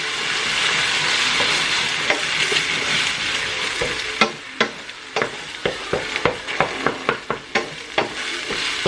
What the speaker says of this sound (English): I'm going to just stir them up real quick.